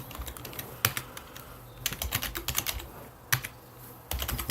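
Brisk typing of a password on a computer keyboard during a Solaris installation in VirtualBox, with bursts of close, rapid key clicks and louder strikes on individual keys, alone and without speech.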